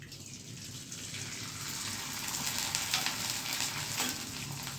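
Patra pieces frying in hot oil for a Gujarati fasting-style dinner give off a steady, close sizzle with a soft bubbling wash and a few faint clinks, growing slightly louder partway through.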